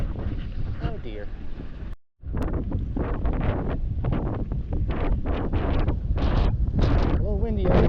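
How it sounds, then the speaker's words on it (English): Strong wind buffets a microphone outdoors during a bikepacking ride, a constant rumbling roar with brief gusts, while someone talks over it. "Okay, it's a little windy out here."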